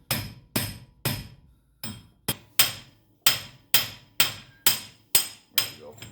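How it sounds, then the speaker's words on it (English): Hammer striking the hub nut on the front wheel of a 2003 Ford Ranger 4x4 during a wheel bearing hub replacement: about a dozen sharp metallic whacks in a steady rhythm, close and loud, each ringing briefly. "give it a couple whacks with a hammer"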